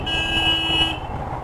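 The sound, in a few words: vehicle horn honking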